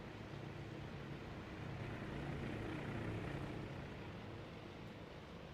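Several Grumman Wildcat fighter planes in the Midway carrier battle of the game Task Force Admiral, a steady, dense engine drone that swells slightly mid-way and holds at a constant loud level with no talk.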